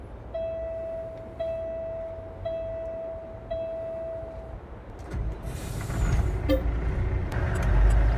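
A semi truck in a farming video game sounds four evenly spaced electronic beeps, then its engine rumbles and builds louder as it gets moving, with no voices.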